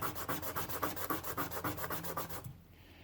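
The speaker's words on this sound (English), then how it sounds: "you could come in here and sand it down a little bit, making it just a little bit thinner." A shim washer from a Zebco 808 fishing reel is sanded by hand, giving a rapid run of about a dozen rhythmic rubbing strokes, close and fairly quiet, before stopping abruptly.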